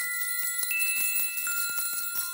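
Small bells ring faintly in the distance in a Christmas sound story for children, a soft shimmer of sustained tones with light repeated strikes throughout.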